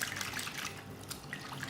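Water is poured into a bowl while rinsing ingredients for a dessert. A faint, steady trickling splash plays with no one talking.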